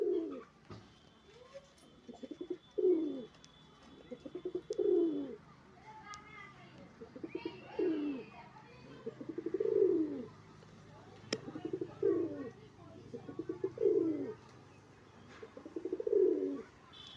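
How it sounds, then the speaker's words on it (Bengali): Matrasi pigeons coo in repeated, evenly spaced bursts of throaty calls, roughly every second or two, fairly close and fairly quiet, with faint background noise and a few sharp clicks between calls. "ওই দুটো ম্যাট্রেসি পায়রা আমি নতুন কিনে নিয়ে এসেছি, কিন্তু নিয়ে আসার সঙ্গে সঙ্গে এরা বিট খাওয়া আরম্ভ করে দিয়েছে।"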